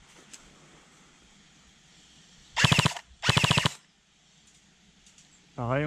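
Arcturus AT-AK06 airsoft rifle firing two short bursts of rapid shots, loud and close, with quiet background between them and a rising tone at the end.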